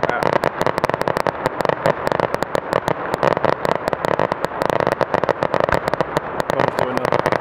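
Fireworks shooting balls up into the air at a fireworks festival in Bamsebo, a loud, dense barrage of rapid cracks and pops that keeps going without a break.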